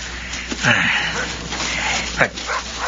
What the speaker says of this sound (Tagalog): Isang malaking asong itim.